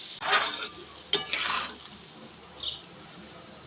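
Watery mustard paste poured into a rohu fish curry with raw mango, then stirred, producing a splashy pour followed by a wet sizzle and quieter spoon scrapes against the pan, close by and with no talking.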